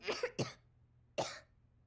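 A child coughs in a short cluster of three dry, close coughs, two quick ones followed by a third after a pause, with no talking.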